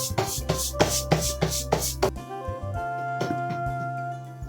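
Bhakri flatbread dough is patted out by hand in a run of regular, dull slaps close by. A brief pause follows, then lighter scattered taps and rubbing. No one speaks.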